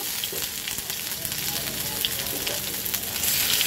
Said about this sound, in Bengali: আদাটা একটু ভাজা হোক।